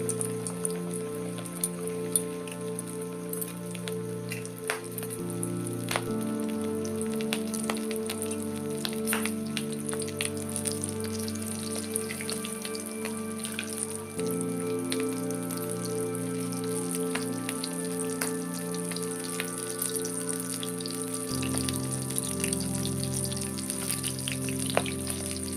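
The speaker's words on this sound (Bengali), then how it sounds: "তেলটা আমার গরম হয়ে গেছে। আমি একটা একটা করে ভেজে নেব।" KFC-style coated chicken pieces frying in hot oil, a steady dense crackle and sizzle running continuously and close without talk, with the tone shifting slightly as pieces are added one at a time.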